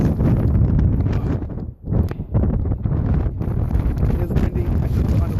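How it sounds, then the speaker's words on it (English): Strong wind gusting outdoors during a winter blizzard, a loud continuous roar buffeting the microphone with a short lull midway. "It's windy."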